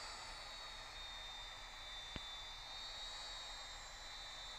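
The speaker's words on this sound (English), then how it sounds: "It's a jet blast off that engine." An airliner's jet engine blast in the Infinite Flight game roars as a steady, even rush of engine noise at moderate level, with one brief sharp click partway through.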